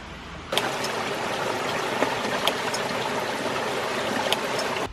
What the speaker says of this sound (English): He has a very nice creek in here.